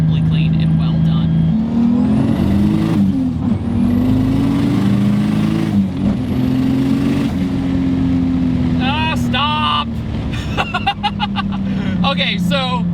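A 1JZ-engined BMW E30 wagon accelerates hard, its engine rising in pitch through several gear changes, loud and close, with a voice talking over it and squealing or whistling bursts toward the end.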